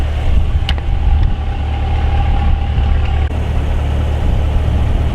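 A Chevrolet C8 Corvette fitted with a clear engine cover drives along a road, giving a steady, loud low engine drone and road rumble throughout with no break.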